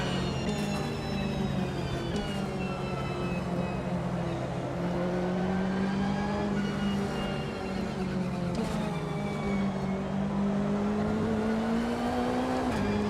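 Race car engines drone in Automobilista 2 as the driver chases a McLaren, a loud sustained whine with pitch rising and dipping through gear changes and a shift blip around the middle, steady and close.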